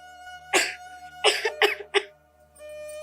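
A girl coughs in a TV drama scene, several short, harsh bursts: one cough, a pause, then a quick cluster of three close together against a quiet background hum.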